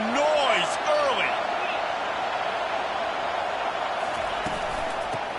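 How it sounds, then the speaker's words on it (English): Stadium crowd at a college football game, a loud steady roar of many voices with whistle-like calls early on, filling the whole stretch without letting up. "This crowd bringing the energy and noise early."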